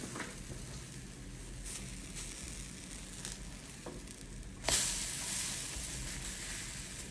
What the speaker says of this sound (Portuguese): vamos virar para ela fritar o outro lado